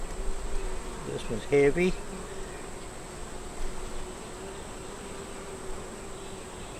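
Honey bees buzz steadily around an open hive during an inspection, a continuous close insect drone with a brief burst of nearby speech early on.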